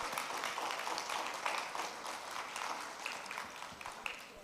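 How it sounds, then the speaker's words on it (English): An audience applauds panelists at an international women lawyers' convention in Colombia, a steady wash of clapping lasting several seconds at moderate level, with no speech over it. "A big applause, please"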